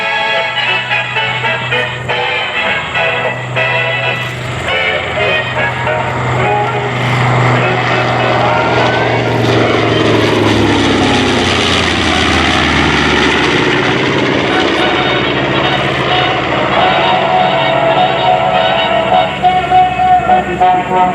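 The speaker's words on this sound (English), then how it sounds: "now inbound from show right, the B-25 Mitchell" A B-25 Mitchell bomber roars past at an air show, its twin propeller engines building to a loud drone that sweeps down in pitch as it passes, while an announcer talks over the noise.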